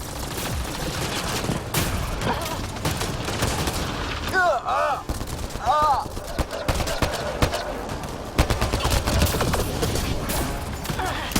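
Rapid, loud gunfire rattles nonstop during combat in the sci-fi shooter Mass Effect Andromeda, with bursts overlapping shouted voices and electronic weapon whirs.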